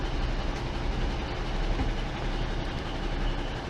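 A passenger train pulls out of Wigan North Western station bound for Carlisle or Lockerbie, producing a steady, close, loud rumble of engine and wheels that holds even and continuous throughout.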